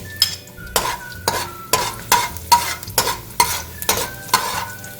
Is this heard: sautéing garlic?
yes